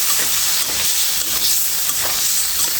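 Tomato sizzling in oil and spice paste in a pan during cooking for a khorum fish curry, a steady dense frying hiss with soft stirring scrapes throughout, close and continuous with no talking.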